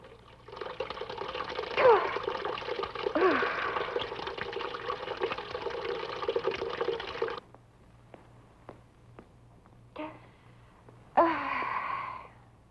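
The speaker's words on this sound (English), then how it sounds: "I think I better get some water on my face." Water splashes and runs steadily for several seconds as someone splashes it onto their face, stops briefly, then gushes again in a shorter burst in a 1959 film scene.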